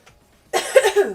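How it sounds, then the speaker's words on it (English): A single short cough after a brief silence, close and clear, with a rough rasp in the throat. "if you hear me coughing, I'm still recovering from being sick"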